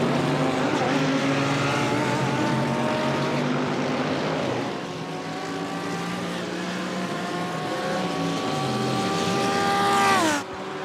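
BMW M4 GT3 race cars in a sim racing game, a loud sustained engine roar with a rising pitch sweep toward the end, then a sudden cut as the car slows for the pit lane.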